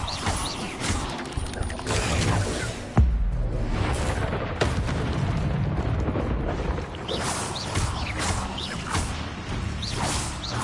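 The Incendio fire spell is cast in Hogwarts Legacy on PS4, a loud, continuous fiery whooshing rush with a sharp booming burst partway through and rumbling, crackling texture throughout.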